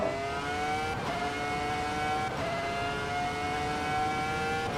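A Ferrari F2004 Formula 1 car in Assetto Corsa EVO screams at high revs, its loud V10 howl climbing through the gears with brief dips at each upshift, unbroken by talk.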